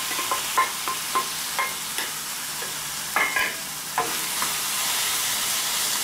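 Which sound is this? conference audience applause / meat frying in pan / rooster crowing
meat frying in pan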